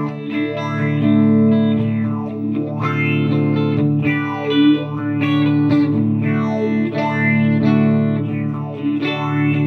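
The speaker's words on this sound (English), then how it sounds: "Phaser swirl." An electric guitar through a Fender Mustang LT25 amplifier on the Phaser Swirl preset plays sustained chords and notes with a sweeping, swirling phaser effect, loud and close, with no talking.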